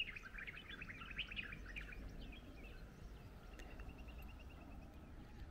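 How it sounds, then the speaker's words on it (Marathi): Sparrows and other birds chirp in quick bright bursts at Sarasgad Fort near Pali, moderately close over a steady low outdoor hum, no talking. "आणि चिमण्यांचा आणि पक्ष्यांचा आवाज बघा ना."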